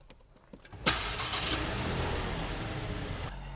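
A 2015 Toyota Camry engine cranks and catches, then settles into a steady idle that runs on close by, with no talking.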